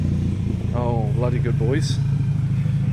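A Honda DC2 idles roughly and steadily just after a cold start, a loud low rumble that runs throughout while a voice speaks over it.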